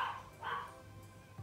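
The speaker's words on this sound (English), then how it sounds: "What is my dog barking at?" A pet dog barks at home, two short yips close by with a faint thump afterwards, no talking.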